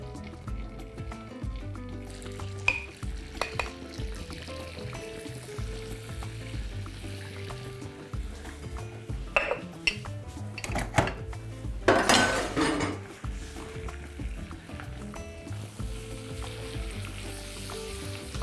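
Flour fries in melted butter for a béchamel sauce with a constant sizzle. A spoon stirs and scrapes the pot, with several sharp metallic clinks partway through.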